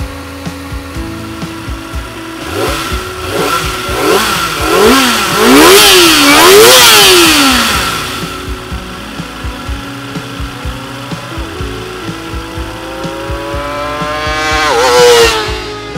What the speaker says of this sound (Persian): وقتی بشینی پشت این موتور رو جوری گاز بدی که دور موتور انجین تا 15500 دور بر دقیقه بالا بره